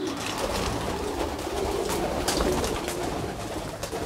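Racing pigeons coo steadily inside a loft, a dense layered chorus of soft throaty calls that continues throughout at close range, with no talking.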